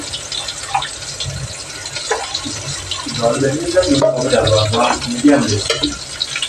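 Water poured into a vessel while coffee is being made in a home kitchen, a steady trickling gush that swells midway, with a person talking over it.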